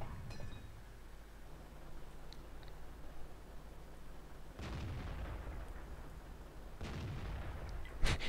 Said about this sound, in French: J'entends les tirs qui se suivent, donc ça c'est le T69 ou le 55 qui est en train de tirer sur la droite.